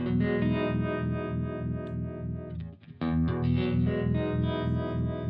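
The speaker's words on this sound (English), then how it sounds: "this is what it sounds like when I have it reverb and then harmonic vibrato" Electric guitar played through an amplifier with reverb and harmonic vibrato switched on, a continuous sustained strummed tone with a subtle wavering shimmer and a brief dip near the middle, loud and alone without talk.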